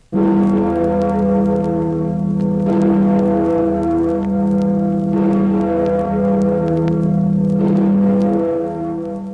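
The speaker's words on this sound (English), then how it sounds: "That was the Freedom Bell, to remind you that you are listening to Radio Free Europe." The Freedom Bell of Radio Free Europe tolls slowly and repeatedly on a radio broadcast, each loud, resonant strike ringing out and overlapping the last.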